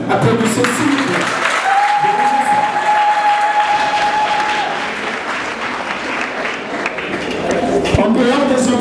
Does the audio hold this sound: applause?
yes